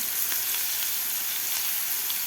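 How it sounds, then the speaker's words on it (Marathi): Crushed garlic and green chilli thecha is fried in a pan, giving a steady, close, dense sizzle throughout with no voices. "आता ठेचा आपल्याला व्यवस्थित परतून घ्यायचा आहे"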